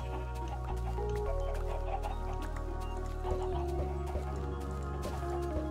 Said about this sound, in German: Ein Huhn ist entkommen, na toll.